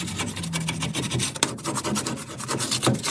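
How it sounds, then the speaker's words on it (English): A close, rough scraping at a steady back-and-forth rhythm as grease is scraped off a 1964 C-10 Turbo 350 transmission, with a sharper knock partway through. "I got it fairly well scraped down now on this portion anyways. Underneath I gave it a scrape."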